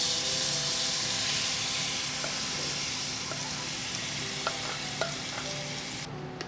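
Banana flower kofta mixture sautéing in a pan, a steady broad sizzle and hiss running throughout with a few faint scrapes of stirring near the end, alone without talk.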